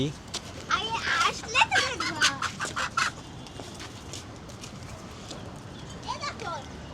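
Chickens cluck close by in a lively burst of overlapping calls over the first few seconds, then a quieter stretch, with a few more clucks near the end.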